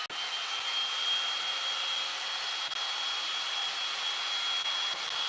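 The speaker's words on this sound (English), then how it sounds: "let me hit this with the dryer so that we can start to build our layers" A hair dryer blows steadily and loudly to dry layers of paint on a craft project. A high whine stays constant throughout, and no one speaks.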